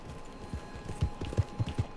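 Horse hooves clip-clopping in Red Dead Redemption 2, a steady run of moderately loud, close hoofbeats in an irregular walking rhythm over soft background ambience.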